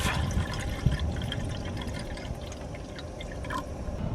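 Water trickles and splashes steadily as it is poured for tea inside a vehicle on a windy evening, a close, continuous liquid patter with a few small drips.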